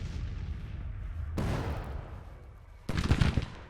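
Cannon artillery firing in the Civil War strategy video game Grand Tactician, with booming blasts at about 1.4 and 3 seconds over a steady low battlefield rumble, close and loud, with no talking.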